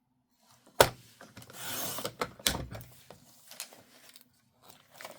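Paper for scrapbook layout mats is cut close by, with a sharp snap followed by a soft rasping slide and scattered light clicks and rustles.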